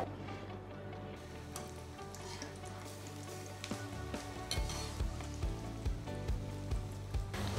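Small bread pieces frying in hot oil for bread halwa give off a steady, close sizzle that continues throughout, with music playing over it.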